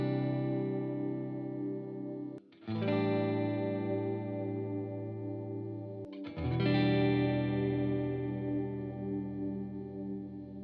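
Electric guitar strumming lush open chords through chorus and effects, with sustained ringing chords restruck twice, each cutting off briefly before the next full shimmering strum, played alone and fairly loud.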